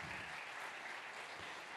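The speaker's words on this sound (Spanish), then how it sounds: "Un aplauso para Jimmy Rodríguez." A faint, distant wash of audience applause at a conference talk, steady clapping blending into an even roar that holds for under two seconds.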